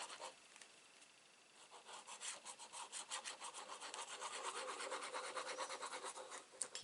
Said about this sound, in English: So we need to add glue